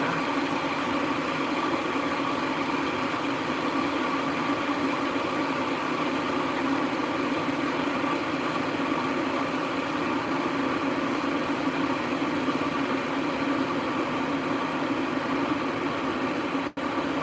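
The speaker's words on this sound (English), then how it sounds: "Excuse the noise, I've just got the water boiling" Water coming to a boil on a stove, a steady dense rumbling hiss that holds at an even level throughout with no talking, ending in a brief click.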